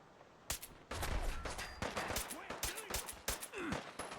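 Heavy gunfire in a Fallout 4 firefight, with dense volleys of sharp, loud shots coming in rapid irregular bursts and overlapping cracks for several seconds, plus a brief faint vocal sound.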